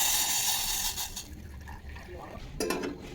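Hot water pours into a cup in a home kitchen while making chai, a soft liquid splash and trickle heard up close along with a few light clinks of dishware.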